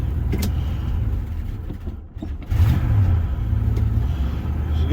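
Car engine revving steadily in park while the transmission is tested for slipping gears, still cold from startup; a loud, continuous low rumble that dips briefly then surges back up, with no talk.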